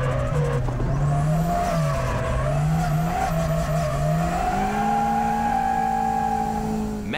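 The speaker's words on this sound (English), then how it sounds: "Match a D1 driver with an FR turbo car and what do you get? Drifting, drifting, and more drifting." A D1 driver drifts a front-engine rear-drive turbo car, the engine droning and wavering as revs shift while tires hiss and squeal through a long continuous slide, loud and close with no talking.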